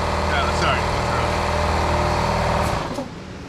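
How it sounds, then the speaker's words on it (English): A power sander with 40-grit paper works a car's front valance down to bare metal, a loud, close, high-pitched whir that runs steadily and then spins down near the end, with some talk over it. "All I gotta do is sand this surface down to 40, down to bare metal with 40 grit"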